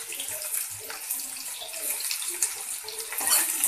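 Onion, a dry chili and bay leaves fry in hot oil in a kadhai, making a close, continuous crackling sizzle with small pops throughout, and no one speaking.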